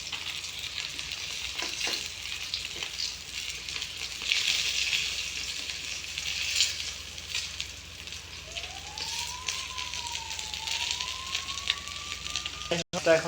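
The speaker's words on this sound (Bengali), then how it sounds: "অনেকক্ষণ ধরে ভাজতেছি" Cauliflower fries in a pan until it turns charred, giving a long, steady crackling sizzle up close, with a whistling tone rising and falling midway and a sharp clatter at the end.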